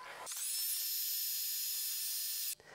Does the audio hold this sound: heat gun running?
yes